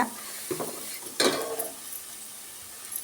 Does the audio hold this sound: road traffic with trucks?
no